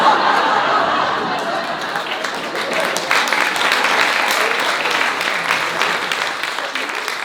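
Audience applause fills a comedy club during a stand-up set, a steady dense roar of clapping with some laughter mixed in, loud and close throughout.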